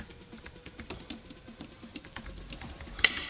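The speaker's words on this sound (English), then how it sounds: "Pardon me while again I can't type. I got to get a new keyboard." Steady, rapid keystrokes on a desktop Mac keyboard, soft clicks in a continuous patter with one sharper press near the end, close-up and without speech.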